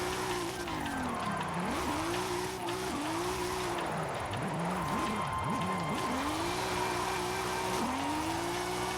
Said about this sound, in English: see how I upshift there and it actually picks up a little bit of speed?